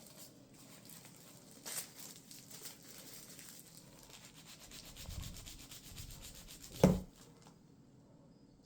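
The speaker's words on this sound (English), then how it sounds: "Sorry, I'm rubbing too hard." Steady, soft rubbing of a cloth over an inked Tetrapak printing plate, a continuous close scuffing texture with a few louder strokes and one sharp knock near the end.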